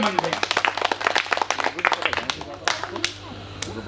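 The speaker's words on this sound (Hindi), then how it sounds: "एक बार जोरदार तालियां बजा के मुझे मन दें।" An audience at a poetry gathering held at a Bajrang Bali temple in Siraulī Kalā claps in dense, uneven bursts that thin out toward the end, close and fairly loud, with a steady low hum beneath.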